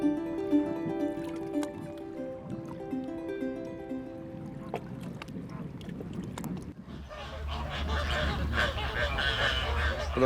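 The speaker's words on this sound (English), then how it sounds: "That sound is the flamingos." A flock of flamingos feeding together in a lagoon, their honking goose-like calls overlapping in a dense chatter that swells louder in the second half over low rumbling and water sounds.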